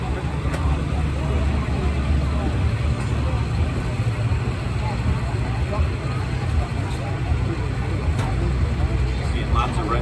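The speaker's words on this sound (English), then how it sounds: "The next tractor up will be Rod Reynolds on the Rod Knocker tractor." The Rod Knocker pulling tractor runs its engine at an Ontario County Fair tractor pull, a loud continuous low roar that holds steady for the whole stretch while an announcer talks over the crowd.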